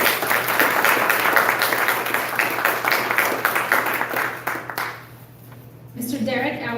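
An audience at a community forum applauds, dense clapping for about five seconds that fades, then a voice starts speaking.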